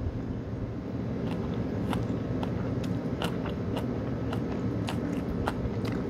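Someone eats pork belly dipped in chogochujang sauce of rice syrup and apple vinegar, with close, irregular crisp bites and chewing over a steady background hum and no talking.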